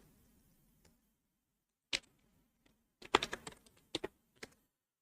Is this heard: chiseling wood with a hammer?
no